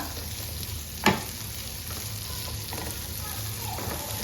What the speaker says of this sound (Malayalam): ഇനി ഇതിലേക്ക് നമ്മുടെ ഉരുളൻകിഴങ്ങും കൂടെ ഇട്ട് കൊടുക്കാം. എന്നിട്ട് നന്നായിട്ട് ഒന്നും കൂടെ ഒന്ന് ഇളക്കുക.